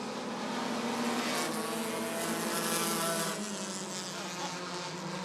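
Pack of Bandit-class race cars roaring off together at the green flag at Rockford Speedway, a loud continuous engine drone filling the air from start to finish with no gaps.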